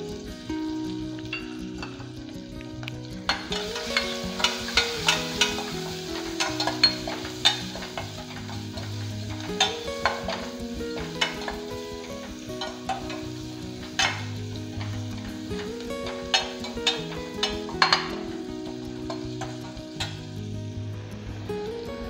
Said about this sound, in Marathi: मोहरी, लसूण छान अगदी लालसर करून घ्यायचा आहे।